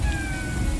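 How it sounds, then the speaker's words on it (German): Steady rain in the video game Morels: The Hunt 2 hisses continuously across the whole moment, loud and even, with a thin tonal whine running faintly through it. "es regnet"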